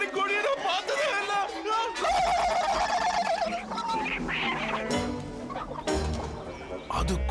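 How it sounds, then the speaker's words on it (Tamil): An oversized chicken in a Tamil-dubbed animated show clucks in loud, choppy bursts mixed with voices talking and background sound effects. "அடேங்கப்பா, எவ்வளவு பெரிய கோழி!"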